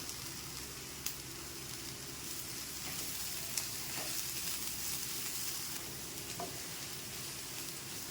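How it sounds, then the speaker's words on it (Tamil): Coriander leaves sauté gently in a pan for chutney, a soft steady sizzle with occasional faint scrapes and clicks of stirring, quiet and close without speech. "கொத்தமல்லியை போட்டு நல்லா வதக்கிடலாம்."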